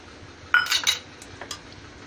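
A spoon knocking against a bowl while curd is added to thick urad dal and rice idli batter, a few bright clinks close together followed by fainter taps, close up.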